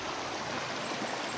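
Strong stream water flows past near a house, a steady broadband rushing wash, fairly faint and unbroken, with no voices.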